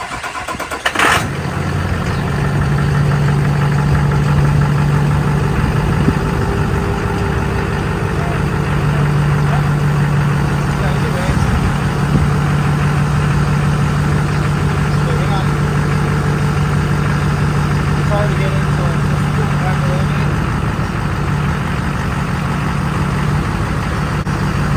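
A pickup truck fitted with oversized wheels cranks over and settles into a steady, loud idle that holds close by for the rest of the stretch, with a low constant drone and no talk over it.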